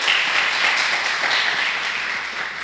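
Church congregation applauding together, a dense continuous wash of clapping that fills the whole stretch at steady loudness without pause, close and full, with no distinct voice standing out.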